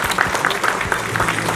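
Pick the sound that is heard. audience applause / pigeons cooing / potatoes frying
audience applause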